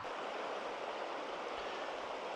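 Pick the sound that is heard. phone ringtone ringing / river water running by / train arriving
river water running by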